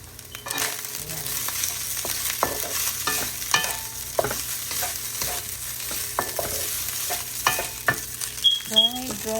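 Fried rice sizzles steadily in a hot pan while a utensil stirs and scrapes it in repeated sharp knocks, close and fairly loud, with no talking.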